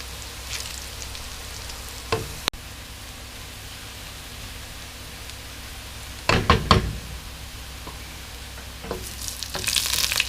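Onions for a homemade chicken biryani fry in a pan under a steady, close sizzle, broken by a few knocks and scrapes of stirring, with a louder flurry of stirring midway and again at the end.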